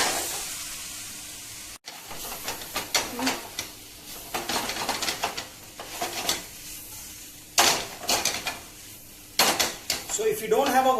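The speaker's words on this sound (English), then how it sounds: "And now we stir fry the noodles." Vegetable Hakka noodles stir-fried in a pan, with bursts of clattering utensil strokes and metallic scraping at an uneven rhythm, loud and close, with faint sizzling between strokes.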